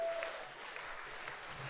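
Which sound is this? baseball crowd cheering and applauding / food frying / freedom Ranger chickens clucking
baseball crowd cheering and applauding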